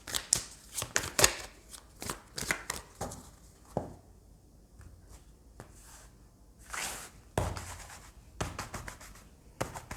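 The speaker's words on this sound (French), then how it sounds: "Allez, je vais tirer 3 cartes de l'oracle des astres." Oracle cards are handled, shuffled and drawn near the microphone, giving irregular sharp flicks and snaps of card stock in quick clusters with quieter pauses between them and no talk.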